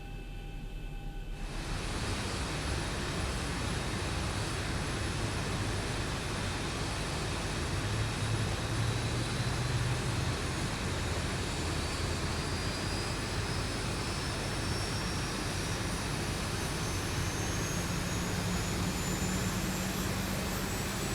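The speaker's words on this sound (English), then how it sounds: "so now engine number 2 is alive, we'll go ahead and start engine number 1" A Boeing 737 jet engine spools up in the X-Plane 11 flight simulator, a steady loud turbine roar with a faint whine slowly rising in pitch, continuous throughout.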